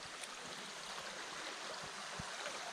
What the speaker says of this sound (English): This badass stream.